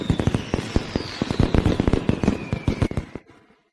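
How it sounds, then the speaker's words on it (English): Firecrackers going off in a rapid string of sharp crackling pops, loud and dense, with a faint whistling streak running through before the bursts stop abruptly at the end. "the firecracker team is clearing the way"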